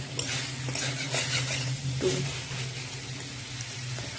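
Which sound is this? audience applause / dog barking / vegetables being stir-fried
vegetables being stir-fried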